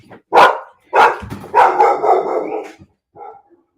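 A big dog barks in loud, close bursts, about four to five sharp barks spaced irregularly over a few seconds, with a short quieter yip near the end, in an indoor room.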